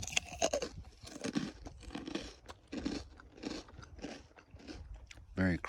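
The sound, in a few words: biting and chewing a crunchy ice cream sandwich cookie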